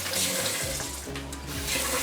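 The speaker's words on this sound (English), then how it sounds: "All you have to do, turn on your water." A kitchen tap runs steadily while water is drawn for cooking sinigang, a loud continuous close rush of water filling a pot with no talk.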